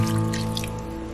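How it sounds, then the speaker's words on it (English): A cup of water poured into an Instant Pot holding mutton curry ingredients, a brief close trickling splash with a faint resonant hum underneath. "I'm just going to add a cup of water into this."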